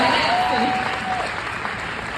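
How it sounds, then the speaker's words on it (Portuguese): Audience applause at a corporate lecture event in Brazil, sustained clapping from the crowd that is loudest at the start and eases slightly, with a faint tone and some crowd murmur mixed in. "Então vamos dar uma salva de palmas para eles, por favor?"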